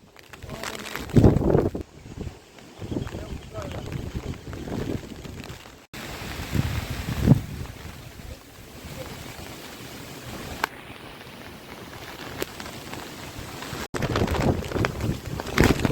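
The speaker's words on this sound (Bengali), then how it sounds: "প্রচন্ড হাওয়া হচ্ছে" Strong wind from Cyclone Remal at Jharkhali in the Sundarbans roars in uneven gusts with heavy buffeting on the microphone, rising and falling across the whole stretch, with brief voices mixed in.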